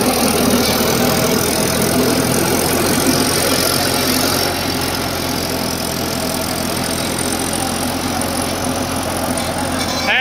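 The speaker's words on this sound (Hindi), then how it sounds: "डायना ट्रैक 246 46 HP का ट्रैक्टर 8 फुटा सुपर सीटर" A Dynatrack 246 46 HP four-wheel-drive tractor pulls an 8-foot super seeder through a field, its diesel engine a loud, steady, close drone with a rattling mechanical knock that holds throughout, with no talk.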